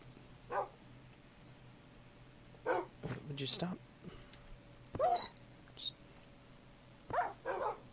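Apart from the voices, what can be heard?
dogs barking in Minecraft Better Than Wolves mod, video game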